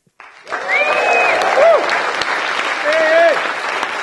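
A studio audience at a live radio show on a local FM station breaks into loud, sustained applause with a few whoops and cheers, starting abruptly and continuing to the end.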